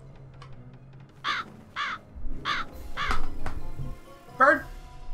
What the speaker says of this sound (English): Bird, you're irritating me.